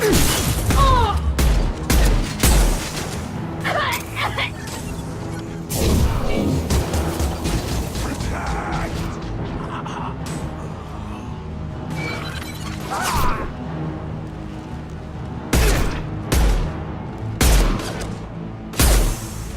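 Mass Effect 2 combat: repeated bursts of gunfire with sharp shattering impacts and clattering mechanisms, loud and close, in clusters separated by brief lulls, with occasional voices between shots.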